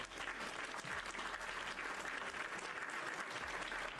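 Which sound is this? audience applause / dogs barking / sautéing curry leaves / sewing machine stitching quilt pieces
audience applause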